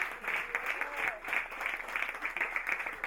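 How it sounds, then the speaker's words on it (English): An audience at a summer scholarship meeting claps in a continuous, moderately loud round, with faint voices mixed into the crowd. "deserves yet another round of applause"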